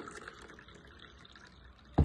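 Warm water poured into a cup while making Egyptian country bread, a soft, steady liquid stream that runs for about two seconds and ends in a brief louder knock.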